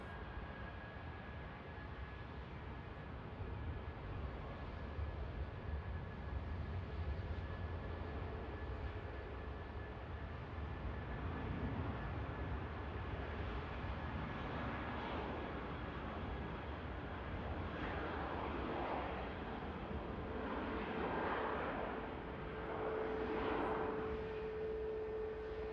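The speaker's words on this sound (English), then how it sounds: "BA spooling up." A British Airways jet's engines spool up at Manchester Airport, a steady distant roar with a faint whine that gradually swells, heard alone with no talking.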